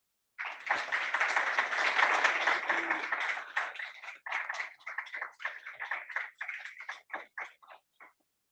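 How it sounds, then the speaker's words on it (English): A graduation ceremony audience claps together, loud and dense at first, then thinning into scattered claps before stopping. "if everyone would just go ahead and applaud the family members in the audience"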